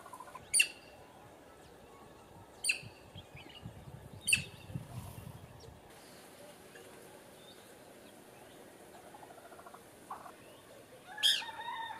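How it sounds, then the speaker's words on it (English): Piapiacs, long-tailed crows, calling in the Gambia: a few sharp, single-syllable calls spaced a couple of seconds apart, then quieter chatter and a final burst of calls, against faint background noise. "The call of these long-tailed crows is supposedly onomatopoeic, but most calls are a single syllable."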